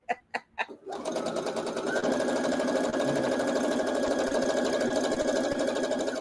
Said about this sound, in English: Maybe it's my sewing machine. Maybe I'm sewing too fast.